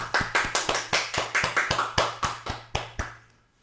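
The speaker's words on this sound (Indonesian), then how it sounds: "Beri tepuk tangan, amin." A small church congregation at a midweek service claps in a steady, even rhythm, about a dozen sharp close hand claps spaced evenly before fading out, with no talk over them.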